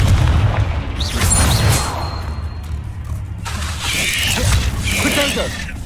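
Spell blasts and explosions from the Confringo fire spell in the video game Hogwarts Legacy, with booming low-end impacts and crackling bursts in quick succession amid busy combat effects.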